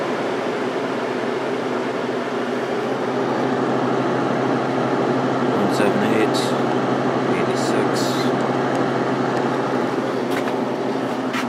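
A vintage Kenmore 5,000 BTU window air conditioner built by Whirlpool runs on its low setting, giving a steady, close fan and compressor hum that stays level throughout with no talk over it.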